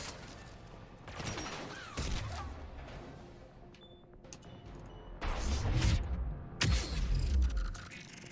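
Bursts of gunfire and booms from a Mass Effect 3 battle on Rannoch, several loud heavy volleys separated by quieter stretches of game noise.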